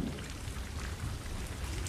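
Rain pours down steadily outdoors, a dense, continuous wash of drops on surfaces with a low rumbling undertone, and no one speaks.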